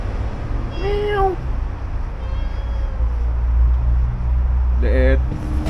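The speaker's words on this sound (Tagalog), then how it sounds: "may pusa oh" A cat meows twice, once early and once near the end, over a loud low rumble of outdoor traffic noise.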